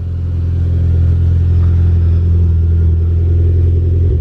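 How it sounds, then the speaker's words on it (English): A Honda S2000 engine idles steadily with a deep, low exhaust rumble, loud and close, continuous throughout with no voices. "nice little exhaust note"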